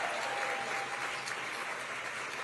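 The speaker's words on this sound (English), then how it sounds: "Let's give them all a big round of applause." Sustained applause from a gala audience in San Francisco honouring servers and stagehands, a dense, even clatter of many hands clapping with no break.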